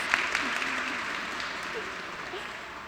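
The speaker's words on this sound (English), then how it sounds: "Round of applause." An audience applauds at a summer design event in Miami, a steady wash of clapping that holds throughout and fades slightly toward the end.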